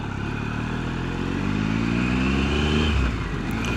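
An adventure motorcycle riding along a street, its engine droning close with a rising pitch as it accelerates, then easing off near the end, with no talking.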